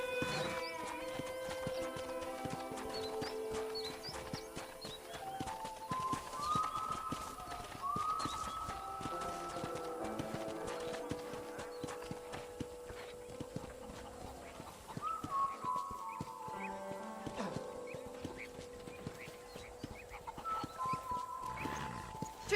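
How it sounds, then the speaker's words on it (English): Horse hooves clip-clop steadily at a walking pace in the Red Dead Redemption video game, a continuous rhythmic clatter under tonal game music and occasional speech. "I picked out a fine horse for you."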